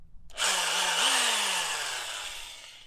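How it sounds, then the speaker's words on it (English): A power drill bores a hole through a wall during a propane water heater install for an off-grid shower, with a loud sustained whine that starts abruptly, holds steady, then slowly winds down. "Drilling a hole through the wall."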